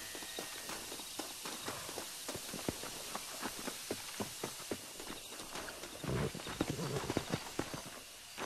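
Horses walking in the Red Dead Redemption video game, a steady run of clip-clop hoofbeats on hard ground, with a heavier, denser patch of hooves toward the end.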